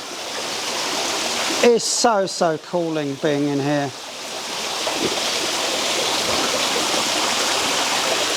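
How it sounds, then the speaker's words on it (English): Running water trickles steadily around a garden waterfall and pond, with a broad continuous wash that carries on after someone speaks briefly near the start. "There's water running everywhere."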